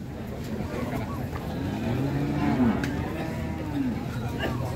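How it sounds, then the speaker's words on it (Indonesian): Limousin cattle at the Jetis cattle market in Ponorogo, a couple of drawn-out moos rising and falling amid a busy crowd murmur and nearby talking. "pesona sapi limousin di 45 juta dari Pak Umar."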